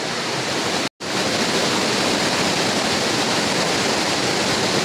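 A hidden waterfall in the Konkan countryside during the monsoon, near a small dam, roars as a steady, loud and close rush of falling water, broken only by a brief cut just before the first second.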